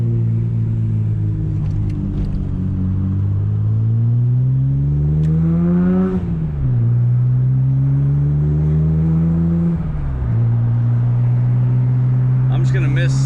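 A Nissan R33 GTR's engine drones steadily while driving in Japan, rising in pitch through each gear and dropping at two shifts, heard loud from inside the cabin.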